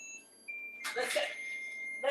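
A kitchen timer goes off while air fryer mac and cheese is being made: a thin, steady electronic beep tone sounds faintly, interrupted by bursts of nearby clatter and movement, with a quiet room behind it.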